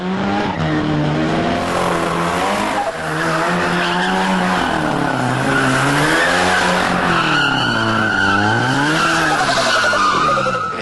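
Race car doing a burnout, its tires skidding and squealing loudly for a long continuous stretch while the engine revs rise and fall underneath, close and dominant throughout.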